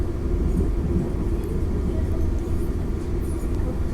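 Southern Line commuter train in Auckland pulling into Homai station, a steady low rumble and rolling drone filling the clip from start to finish at close range with no talk.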